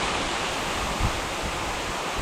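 A waterfall gives a steady, dense rushing roar that holds evenly for a couple of seconds, close and fairly loud, with no voices.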